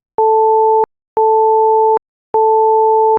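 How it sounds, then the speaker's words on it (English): Combined steady sine tones at 440 and 880 Hz, loud and pure, sounding in three separate bursts of under a second each with brief silences between, like an on-off signal beep. "So that's a sine wave at 440 hertz and a sine wave at 880 hertz."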